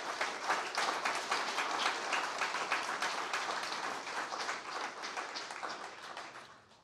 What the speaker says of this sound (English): So another round of applause for these guys too.